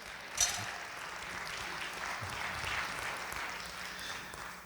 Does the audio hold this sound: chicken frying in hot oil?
no